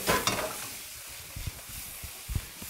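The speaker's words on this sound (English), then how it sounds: "give this a quick stir." Onions caramelizing in a pan for a double cut pork chop dish are stirred briskly, a loud scraping sizzle at first, then softer frying with a few low knocks of the spoon against the pan, close up and without talk.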